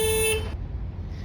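Alarm horn of a 2014 Hyundai HB20 S 1.6 Premium sedan, one short loud honk that cuts off after about half a second, leaving a low rumble of background noise.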